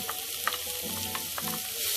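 Finely chopped onion frying in a pan for a Punjabi-style potato and cauliflower dish, a steady dense sizzle with a few soft stirring scrapes, close and continuous.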